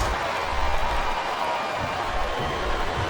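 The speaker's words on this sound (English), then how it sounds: "Listen to the crowd, JR." A wrestling arena crowd in the WWE SmackDown vs Raw 2007 video game roars as a steady, dense wall of noise, loud and unbroken for a few seconds.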